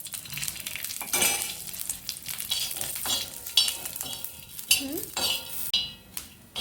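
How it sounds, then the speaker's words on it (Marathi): Dry coconut roasts in a little oil in a pan with a soft, steady sizzle. A spoon scrapes and clinks against the metal again and again as it is stirred, up close and with no talking. "खोबरं भाजून घेऊ। थोडं तेल टाकायचं।"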